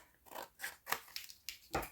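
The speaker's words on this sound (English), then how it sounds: "Just take your scissors and go back down like this." Scissors snipping through paper for a Halloween junk journal, about six separate close, crisp cuts in an uneven rhythm, fairly quiet, with no voices.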